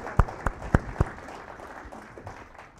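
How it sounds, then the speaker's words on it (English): Scattered audience members clap at a woodworkers guild meeting: four loud, distinct claps near the start, then fainter sporadic claps trailing off in a quiet room. "You can clap."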